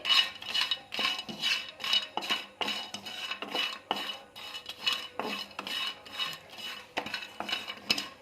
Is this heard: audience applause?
no